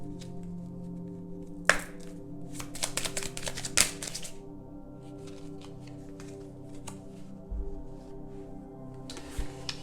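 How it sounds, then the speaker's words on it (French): Tarot cards shuffled by hand at a table, a series of soft riffling flicks and taps in bursts, quiet with a low background hum. "Allez, je vais les mélanger."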